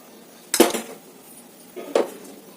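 A kadai pan set down on a stove makes two distinct metallic clanks about a second and a half apart, close and fairly loud, with no voices.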